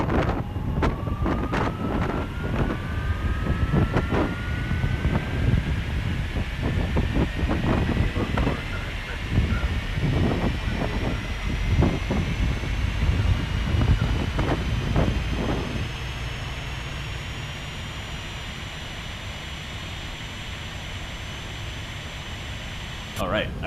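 Boeing 737NG jet engines running outside the aircraft in X-Plane 12, a loud rushing roar with a rising turbine whine that climbs steadily as an engine spools up, then settles into a quieter steady drone near the end.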